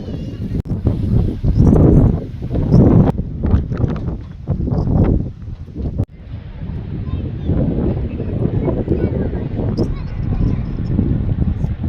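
Strong wind blows across the exposed South West Coast Path near Constantine Bay, between Padstow and Newquay in Cornwall. It roars and buffets loudly against the microphone in uneven gusts, with a voice talking over it.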